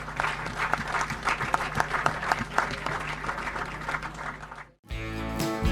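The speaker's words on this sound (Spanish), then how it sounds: "aplauso para los" A large seated audience applauds steadily at the close of an agricultural talk on sunflower management, dense continuous clapping that cuts off briefly before music-like sound resumes.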